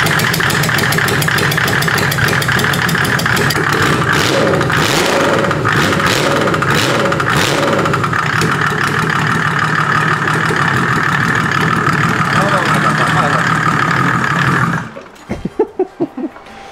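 Rolls Royce engine bought for a drift car project, running on test close by: a rough, clattering idle broken by repeated throttle revs, then cut off, leaving a few knocks.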